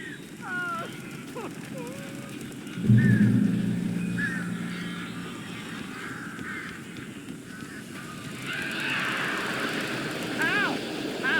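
Birds in the Alan Wake video game give short squawking, honking calls scattered over a droning game ambience, with a deeper rumbling swell midway and voices talking at times.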